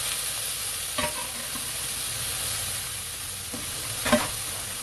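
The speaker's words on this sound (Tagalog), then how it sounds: "So, igisa ang baka." Beef sizzling as it is sautéed in a pan for beef caldereta, a steady frying hiss with a couple of sharp stirring clanks near the start and end.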